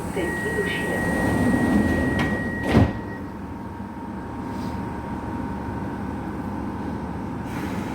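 Interior of a moving metro train in Europe, a steady low rumble of wheels on track with a brief clunk and rattle partway through and a continuous electrical hum, with a person talking over it.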